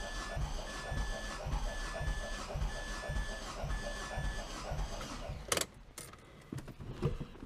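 A Mazdaspeed engine cranking on the starter for a cylinder compression test, giving a steady rhythmic chug of about eight even strokes with a faint whine, then stopping abruptly, followed by a few clanks and clicks.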